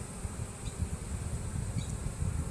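A low, steady buzzing of many honey bees hums close by during a hive inspection, continuous and slightly fluctuating, with no voices.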